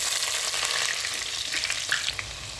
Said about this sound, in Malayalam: ഇതെല്ലാം കൂടി വന്നിട്ട് നമുക്ക് എണ്ണയിലിട്ട് മൂപ്പിച്ചെടുക്കാം.